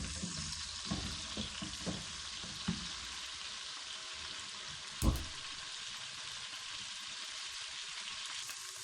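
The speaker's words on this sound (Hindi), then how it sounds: "इसको भी हल्का सा फ्राई कर लेंगे" Steady, soft sizzling of onion, ginger and garlic frying in a pan, with a few scraping stirs and one louder clunk.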